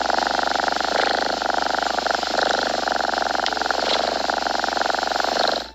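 A voice imitates a cat's purr, a close, loud, continuous rumbling vibration that holds steady for nearly six seconds before cutting off.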